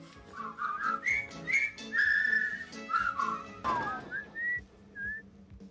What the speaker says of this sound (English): Whistle time's over.